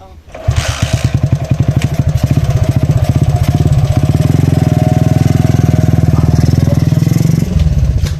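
A motorcycle engine runs loud and close on a comedy film set, its rapid pulsing putter steady for several seconds before easing at the end, with voices faintly underneath.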